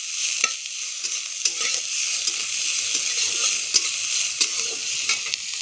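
Onion frying in a generous amount of oil, a steady close hiss of sizzling with scattered scraping stir clicks throughout, no voices.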